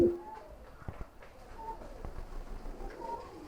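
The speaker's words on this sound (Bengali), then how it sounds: "দেখেন কবুতরটা কোয়ালিটি দেখেন, একদম বিগ সাইজের কবুতরটা" A pair of big black racer pigeons at a farm coo softly and faintly against a quiet background.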